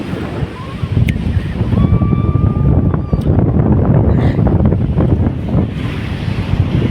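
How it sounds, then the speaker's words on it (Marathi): Strong wind buffets the microphone at Arnala beach near Virar, a loud, continuous low roar with gusty swells that never lets up. Surf may be mixed into the roar, and faint tonal whistles cut in briefly. "वारा तर खूपच आहे"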